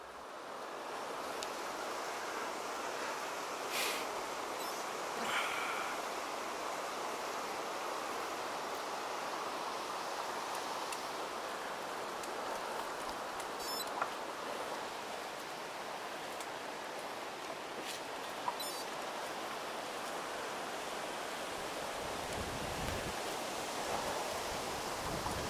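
The River Almond rushes under Livingston Bridge, a steady broadband wash of flowing water that continues unbroken, with a few faint clicks and no talking.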